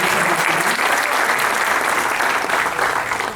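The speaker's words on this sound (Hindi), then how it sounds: "एक दफ़ा फिर तालियां मुझे" An audience at a mushaira poetry recital applauds steadily and loudly, a dense wash of clapping with no break for the whole stretch.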